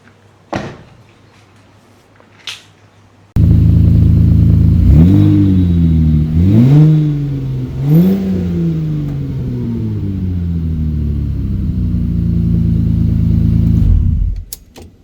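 A project car with a cobbled-together wiring loom cranks and fires up, revs a few times, then settles into a steady, loud idle. Some faint clicks come before it starts.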